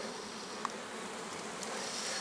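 Honey bees buzz around a hive at a forest apiary, a dense steady hum close by with a brief louder pass of a single bee, no voices.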